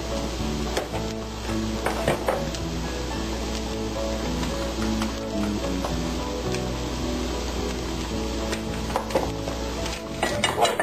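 Hash browns fry in a pan with a low, steady sizzle, overlaid by clinks and scrapes of a utensil against cookware at close range.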